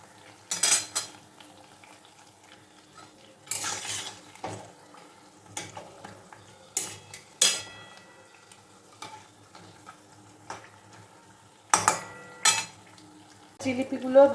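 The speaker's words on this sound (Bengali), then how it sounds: "এদিকে আমার জিলিপি ভাজা চলছে এরকম লো ফ্লেমে ধীরে ধীরে করে ভাজতে হবে" Jalebi frying slowly in oil over a low flame: a faint, steady sizzle broken by occasional clinks and scrapes of a utensil against the pan, near and quiet.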